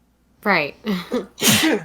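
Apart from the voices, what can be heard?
sneeze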